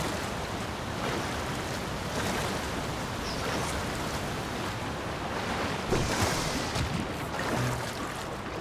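Rushing waterfall in The Legend of Zelda: Tears of the Kingdom, a steady, dense roar of falling water that holds at an even level throughout, with a slightly stronger swell near the end.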